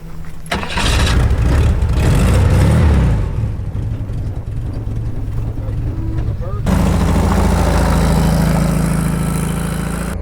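A classic car's engine turns over and settles into a steady, close idle with a throaty low rumble that rises briefly, then continues at a louder level after an abrupt shift, with people talking nearby.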